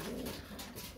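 Pigeons coo in a breeding loft, a low steady murmur of several birds close by, with no talk over it.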